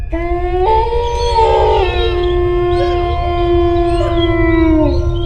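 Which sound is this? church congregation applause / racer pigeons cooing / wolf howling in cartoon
wolf howling in cartoon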